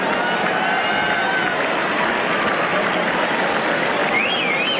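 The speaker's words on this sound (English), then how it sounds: "Crowd reacting to something that was said." A large crowd at a 1998 US Open men's semifinal between Sampras and Rafter reacts with a dense, steady roar of murmuring and clapping, and a faint rising whistle near the end.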